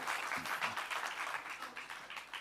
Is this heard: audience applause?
yes